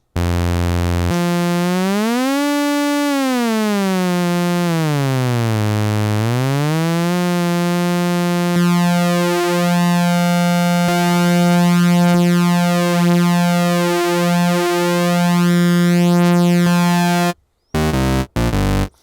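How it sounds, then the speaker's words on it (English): A restored Minimoog synthesizer plays sustained oscillator tones that sweep and bend up and down in pitch, then hold a steady note with shifting harmonics, loud and alone, before cutting off abruptly at the end. "See how great those oscillators sound."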